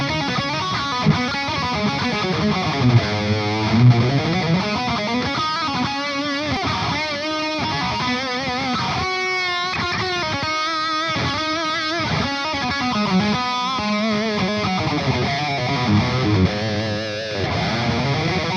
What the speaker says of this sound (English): Here's another JCM 800 lead profile.